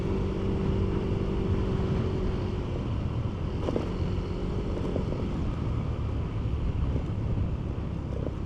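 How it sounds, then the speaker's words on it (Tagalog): Strong wind roars steadily across an outdoor microphone, a constant buffeting rush with low rumble throughout, and no voices. "Lakas ang hangin."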